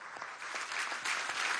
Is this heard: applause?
yes